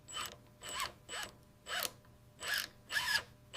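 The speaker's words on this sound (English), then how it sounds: "A miniature magnetic screwdriver turns the bolt clockwise." A miniature magnetic screwdriver driving a tiny bolt into steel on a model bridge gives six short, evenly spaced whirring turns, each about a third of a second, close and fairly quiet.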